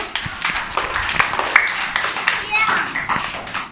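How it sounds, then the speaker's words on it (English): A playgroup class of small children claps for a classmate, a loose scatter of uneven small-hand claps close by, mixed with chatter and children's voices throughout. "Clap for Hareem, all of you."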